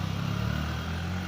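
A Honda CB125 Hornet motorcycle engine runs steadily nearby with an even low throb and faint mechanical clatter, no talk over it.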